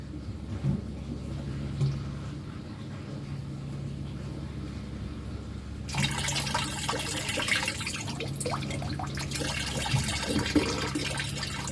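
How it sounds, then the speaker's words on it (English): A garden hose runs water into a snapping turtle's tank, a steady low trickle that becomes a louder, broader rushing flow about halfway through. "Let's try my old trick of running it with the hose."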